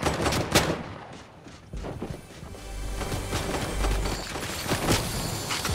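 Gunfire in Fortnite, a close run of sharp shots and bursts with a low boom underneath, steady and loud throughout.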